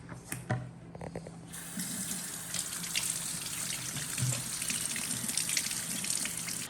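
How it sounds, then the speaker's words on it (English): Water runs from a tap into a sink as someone washes their hands, a steady, fairly quiet gush and splash that continues without pause and with no talk. "And now I'm gonna wash my hands."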